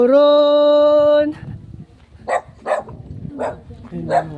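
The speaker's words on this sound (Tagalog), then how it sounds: "Ayun mga aso dito guys." Dogs along a roadside in Davao City give a long drawn-out howl, then a series of short, spaced barks and yips nearby. The sound is fairly loud and stands alone.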